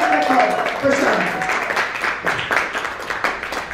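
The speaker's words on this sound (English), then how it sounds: "Nicole just deserves a major round of applause" An audience at a business networking lunch claps together in a brisk round of applause, with speech and raised voices running over the start before the clapping carries on alone as dense, even patter.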